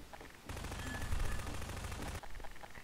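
Rapid automatic gunfire in Garry's Mod, a dense sustained burst of shots lasting about two seconds, loud and alone, with quieter game sounds before and after.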